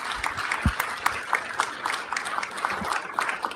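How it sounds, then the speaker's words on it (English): Steady applause from a council meeting audience fills a few seconds, dense clapping at moderate distance with a brief low thump near the start and faint room murmur underneath. "Please give her a round of applause."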